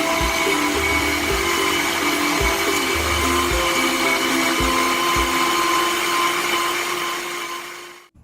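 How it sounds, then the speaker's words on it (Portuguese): A food processor whirs steadily as it shreds cooked chester meat for an empada filling, a loud continuous motor drone with faint periodic bumps, then cutting off at the end. "eu vou usar o multiprocessador"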